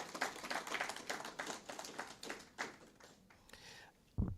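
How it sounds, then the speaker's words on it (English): Applause from an audience at a semi-professional football league awards ceremony, a dense patter of many hands that thins out toward the end before a louder knock closes it. "let's get a round of applause for all the 19 district leagues"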